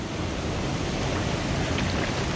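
A waterfall in a canyon roars as a steady, dense rush of falling water, loud and unbroken, with no voices.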